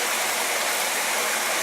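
Flowing water rushes and splashes right beside the listener at an outdoor spot, a loud, steady broadband hiss with no break.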